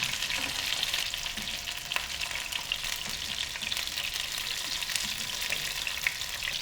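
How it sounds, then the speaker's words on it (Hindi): Fish shallow frying in oil for a fish curry, a dense, steady sizzle that stays close and loud all the way through, with a few small pops and no voices. "और इसी तरीके से हम बाकी की मछली भी शैलो फ्राई कर लेंगे।"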